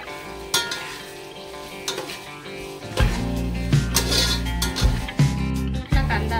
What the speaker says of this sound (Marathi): कांदा लाल होईपर्यंत भाजायचा आहे, सारखा हलवत राहायचा, म्हणजे एकसारखा भाजून निघतो।